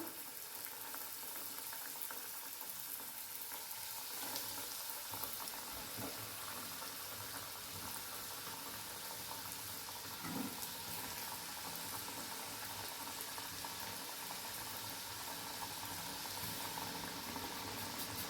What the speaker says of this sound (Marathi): आणि हे छान गोल्डन कलर येतोवर मस्त फ्राय बनवायचे आपल्याला तेलामध्ये